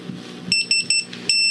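A phone chimes with a text message notification, four short bright electronic beeps in a quick run over a low room hum, close and clear.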